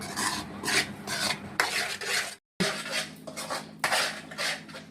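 Khoa with cardamom powder stirred by hand in a metal pan at home, giving steady scraping and rasping strokes of a spoon against the pan, loud and close, with a brief pause midway.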